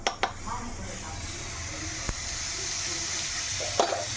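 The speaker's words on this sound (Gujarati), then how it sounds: "હવે રાઈ ને જીરું મિક્સ કરી આમાં નાખી દેવાનું વઘારમાં." Mustard seeds and cumin sizzle in hot oil for a tempering, a steady soft frying hiss broken by a few sharp pops and crackles from the seeds.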